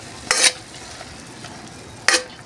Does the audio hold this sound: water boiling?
yes